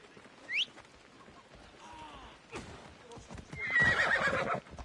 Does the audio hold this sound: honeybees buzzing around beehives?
no